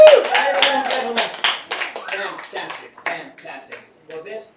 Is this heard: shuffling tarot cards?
no